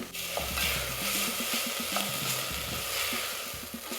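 Chilies hiss in a hot pan for a steady stretch of frying sizzle, with a spoon stirring and scraping at a quick rhythm. The sound is close and continuous, with no talk.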